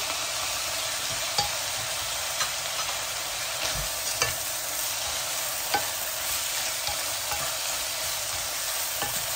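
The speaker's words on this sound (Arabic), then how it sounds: "هنقلبهم مع بعضه" Grated tomatoes and peas being stirred in a frying pan, giving a steady soft sizzle with occasional light scraping taps of the spoon throughout.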